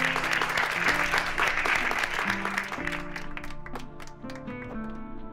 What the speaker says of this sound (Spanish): Demos pues la bienvenida con un fuerte aplauso a la señora Eva Perón.